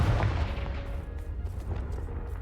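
A Confringo fire spell blasts in Hogwarts Legacy, a booming burst at the start that fades into a rumbling, crackling tail of smaller impacts.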